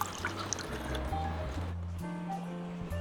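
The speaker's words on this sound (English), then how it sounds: "Add 500 milliliters of water." 500 millilitres of water poured into a container for a ginger detox drink, a steady liquid pour and fill running for about three seconds, close up with no talk.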